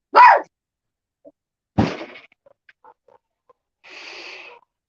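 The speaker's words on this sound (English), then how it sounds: "This dog's ticking me off." Dog barking nearby, a few sharp separate barks with pauses and faint clicks between them, ending in a softer whine-like sound, no speech.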